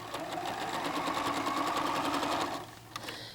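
A White Model 9800 sewing machine stitches a row of basting, giving a close, steady, fast mechanical whir for about two and a half seconds before it stops, with no talk.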